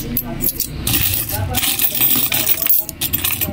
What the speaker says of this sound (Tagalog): Itong ibang barya. Dagdag sa barya ko.